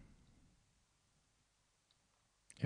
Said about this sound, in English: If I click on the circle